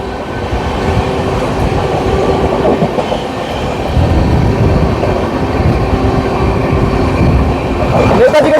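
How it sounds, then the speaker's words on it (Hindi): Train running on a railway while overtaking another train, with a steady loud rolling rumble and rail clatter throughout, some faint voices mixed in. "हम फिर से किसी ट्रेन का ओवरटेक कर रहे हैं।"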